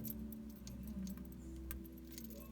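A watch strap clasp is locked after the strap is adjusted and tightened, giving small close metallic clicks and light jingling taps, with no one talking.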